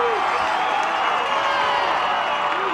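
A high school football stadium crowd cheers and roars continuously, loud and broad, during a 2001 game of Joliet Catholic against the Bulldogs, with faint announcer-like voices mixed in.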